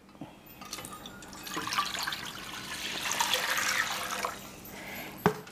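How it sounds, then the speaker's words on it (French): Water pours and splashes into a cooking pot as food goes in to be boiled in a Réunion Island home kitchen, a steady liquid rush lasting several seconds and ending with a brief clunk. "Alors là, on la met dans l'eau et on la laisse bouillir."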